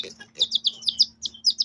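A newly hatched pet chick, a week-old hatchling recovering from a weak neck, gives a rapid series of high, thin peeps close by, several chirps in quick succession with short gaps.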